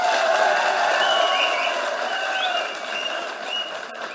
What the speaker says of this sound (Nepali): एकपटक मजाले थपडी बजाएर स्वागत गरौँ।